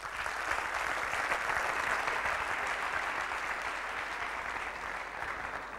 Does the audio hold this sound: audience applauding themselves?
yes